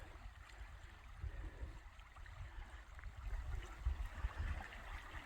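Boise River stream running over small rapids along the Oregon Trail, a soft continuous rushing and gurgling of water, faint and close, with low rumbling swells and no voices.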